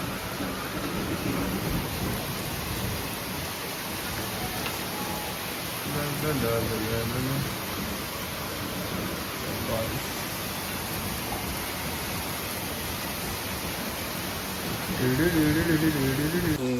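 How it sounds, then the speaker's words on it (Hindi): Heavy monsoon-style rain pours steadily on surfaces with dense hiss, while low rumbles of thunder roll in and swell near the end; bits of background voice and sounds sit under the downpour. "ये देखो गिर रही है ठपक ठपक ठपक, क्या तगड़ी बारिश हो रही है"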